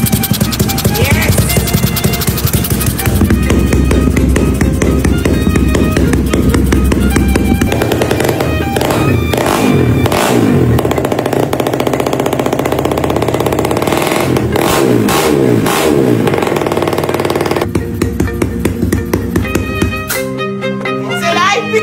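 A small Smash motorcycle engine converted to a four-valve head roars to life after cranking, revving hard in loud rising and falling bursts close by, with short sputters and crackles between revs.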